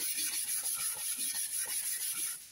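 Wood being sanded by hand in a woodworking shop, a rhythmic back-and-forth rasping of steady strokes, close and fairly loud with no talking.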